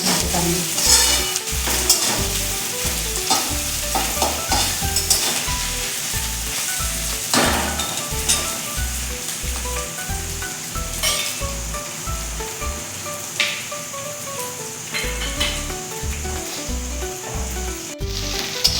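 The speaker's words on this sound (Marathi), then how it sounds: "आता आपलं आलं लसूण थोडंसं छान परतून झालेलं आहे" Ginger and garlic sautéing in hot oil for a vegetable soybean rice, a dense steady sizzle with a repeated low rhythmic thumping of stirring throughout, plus occasional clinks.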